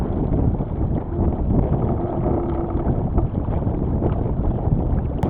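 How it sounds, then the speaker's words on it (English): A strong wind gust roars over a sailboat under way, a loud, steady rush of blustery wind buffeting the microphone with water noise beneath and no voices. "Another gust comes in and I let out the main a little more."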